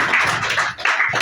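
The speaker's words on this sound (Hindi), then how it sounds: "उनके लिए एक ताली हो जाए" An audience at a gathering claps in brief, dense applause, loud and close, lasting about a second with no voices.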